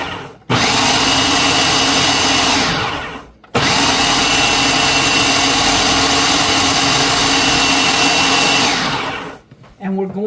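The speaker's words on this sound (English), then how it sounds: "we're just going to pulse till this mixes really good." A food processor pulses a chicken nugget mixture in two loud, close bursts of whirring motor noise, each several seconds long with short pauses between.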